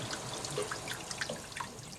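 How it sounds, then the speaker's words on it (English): Cold running water poured over drained potatoes in a bowl: a faint, steady trickle with small splashing drips, quiet and close, no voices. "tip them into a bowl, and just pour cold running water over them until they're cold"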